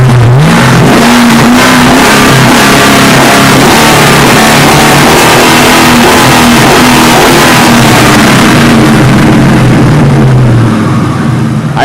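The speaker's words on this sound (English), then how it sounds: "So you can see when you hit the gas." A Mustang Mach 1 with a shaker hood revs hard and steadily when the gas is hit, a loud, close, continuous engine roar with rising and falling pitch that fills the whole stretch, with no talking.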